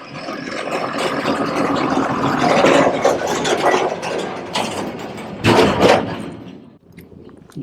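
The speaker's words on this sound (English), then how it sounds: "there's a little tractor coming this way." A small tractor engine chugs and grows louder as it draws closer on the Camino de Santiago between Castrojeriz and Frómista, Spain, with a few clanks and knocks mixed in before it fades.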